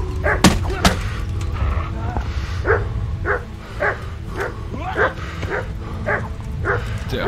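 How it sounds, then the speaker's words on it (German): A dog barks repeatedly in a quick, regular rhythm over a low game soundscape in Kingdom Come: Deliverance, with a couple of sharp clanks early on. "Der Hund macht mein Pferd tot."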